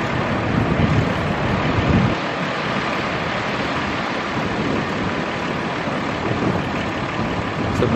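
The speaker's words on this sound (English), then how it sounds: "Some huge waves here on the sandbar." Huge waves break on a sandbar during an extreme boating outing, a steady, loud roar of surf mixed with heavy wind buffeting the microphone, continuous and with no speech.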